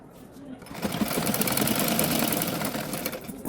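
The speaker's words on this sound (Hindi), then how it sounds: "अच्छा ये दूसरी साइड पे मैं सिलाई लगा रही हूँ" A sewing machine stitches a tucked blouse, starting after a short pause and running as a fast, steady, close whirring rattle, with someone talking over it.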